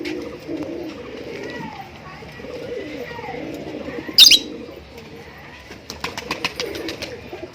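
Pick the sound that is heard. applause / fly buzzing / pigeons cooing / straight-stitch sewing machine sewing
pigeons cooing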